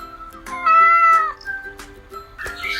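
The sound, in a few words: cat meowing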